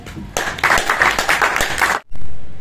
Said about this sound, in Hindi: एक बार ताली तो बजाओ।